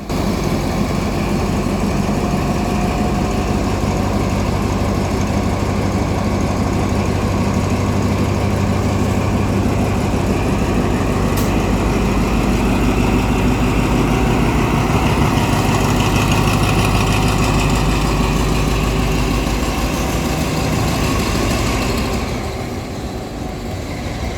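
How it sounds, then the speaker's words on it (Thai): An Alsthom 4420 diesel locomotive with its original engine idles at Lopburi station in the evening, a loud, steady, heavy rumble that continues unbroken and eases slightly near the end. "อันนี้คือหัวรถจักรอันต้อม 4420 นะครับเพื่อนๆ ใช้เป็นเครื่องเดิม"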